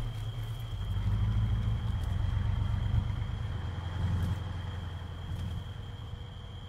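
An armored truck engine in a video game hums steadily while driving, a moderate mid-low drone that swells and eases, with a faint constant high tone and occasional light clicks.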